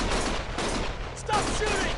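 Dense, rapid gunfire from the video game Lost Judgment rattles in continuous bursts throughout, loud and close, with faint voices mixed in.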